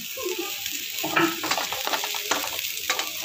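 Small onions sizzle as they are sautéed in a pan, a close, fairly loud frying crackle with stirring scrapes throughout.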